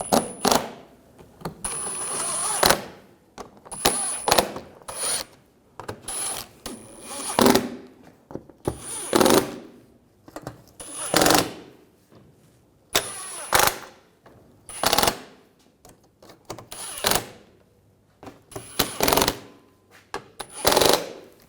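A power tool runs the wheel hub bolts down on a 2007-2013 BMW 328i front hub assembly. About a dozen short whirring, rattling bursts start and stop in a regular rhythm, with brief quiet gaps between them.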